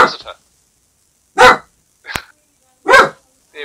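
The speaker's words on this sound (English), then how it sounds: "So, you have a friend there, or are you barking?" A dog barks in three loud, separate bursts spaced about a second and a half apart, with a sharper yip between them and faint barking at the start and end, heard on a call about rebalancing the brain.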